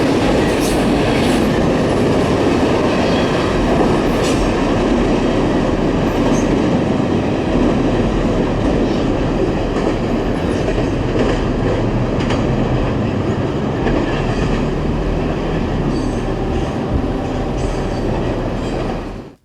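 A Norfolk Southern freight train runs beneath an overpass in LaPorte, a loud, steady rumble with rattling cars and a faint clatter of wheels that holds for the whole stretch.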